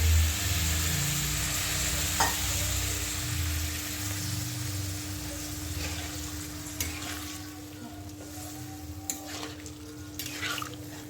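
Water poured into a hot pan of potatoes and papaya curry gives a loud burst of sizzling that settles into a softer bubbling hiss, with a few sharp clicks of utensils against the pan.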